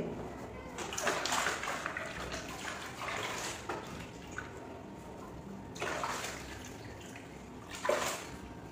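Lukewarm water splashes and sloshes in a basin prepared with lemon juice, shampoo and salt for a foot soak, coming in uneven bursts close by.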